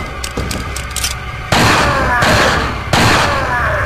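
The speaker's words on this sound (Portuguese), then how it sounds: "Granada flash." Flash grenade detonations in Resident Evil 4: two loud, sharp bursts, each followed by a sustained hissing roar, after a quieter opening with faint game sounds.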